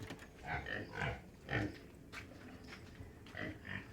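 Crossbreed native pigs grunt on a farm, a series of close, low snorting oinks in irregular bursts with brief pauses between.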